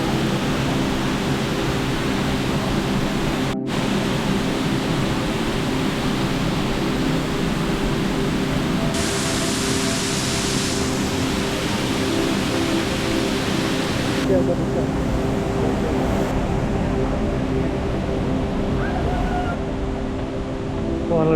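A waterfall in the Brecon Beacons roars with a constant, dense, hiss-like rush of falling water that stays loud and steady throughout. A voice talks faintly over it at moments.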